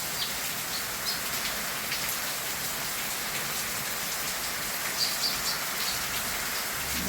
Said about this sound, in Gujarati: વરસાદ વધી ગયો છે, સવારનું ચાલુ જ છે